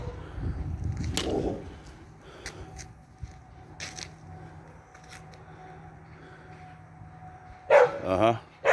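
A neighbor's loose dog, after it has attacked someone, barks in a cluster of close, loud barks near the end, following scattered clicks and handling noises, with some talk earlier.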